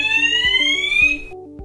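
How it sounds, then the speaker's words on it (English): A C-TEC Hush Pro fire alarm for flats sounds loudly by itself, giving a shrill high electronic tone with a steady pulsing pattern over a low repeating beep. "If the smoke doesn't clear within 2 minutes, the alarm resounds for the occupant to deal with as appropriate."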